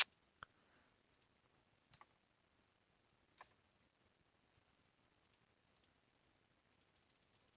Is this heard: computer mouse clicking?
yes